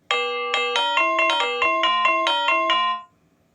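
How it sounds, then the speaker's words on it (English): Apple ringtone melody played on tubular bells, a bright, ringing sequence of about a dozen metallic chimes in steady rhythm, each note sustaining and overlapping before the final tone fades into near silence. "tubular bells"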